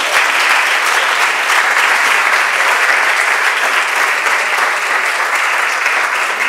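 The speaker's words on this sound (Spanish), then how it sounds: "Fuerte aplauso, por favor." A conference audience gives loud, sustained applause to welcome an award-winning speaker, dense even clapping filling the room for several seconds without voices.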